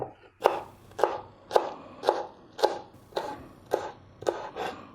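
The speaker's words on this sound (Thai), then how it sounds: "มาเรามาซอยต้นหอมบักชีกันฮะ" A knife chops spring onions and coriander on a cutting board, nine crisp evenly spaced strikes about half a second apart, close and clear with no talking.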